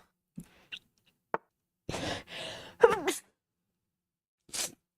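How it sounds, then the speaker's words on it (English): A single sharp sneeze bursts out in the middle, with small clicks and breaths before it and a short exhale afterward. "I have sneeze."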